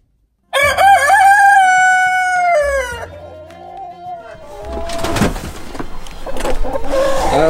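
A rooster crows loudly inside a house, one long close cock-a-doodle-doo that trails off, followed by shuffling and handling noises with some background sound.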